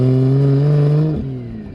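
A BMW N54 with a single T51 turbo accelerates hard, a loud close engine note climbing steadily in pitch for about a second, then dropping off sharply as the revs fall.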